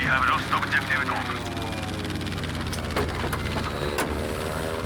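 Aircraft engine drone in the Battlefield 5 Iwo Jima battle, a sustained propeller roar with shifting pitch and gunfire cracks, heard under excited players' voice chat.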